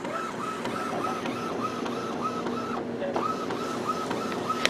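An Epson WorkForce WF-2630 series inkjet printer runs steadily, its print-head carriage sweeping back and forth with a repeating mechanical whir and shuttle rhythm, close up and alone with no talk.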